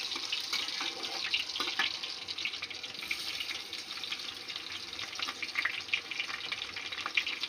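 Chopped onion and green chilli fry in a wok in a dense, even hiss that runs steadily like running water, with faint scrapes of a spatula here and there; no voices.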